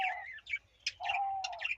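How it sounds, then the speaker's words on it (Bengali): Small doves kept in a bamboo nest setup call close by, a brief run of soft tweets and chirps with short pauses between them. "দেখো ঘুঘু পাখিগুলো আওয়াজ করছে"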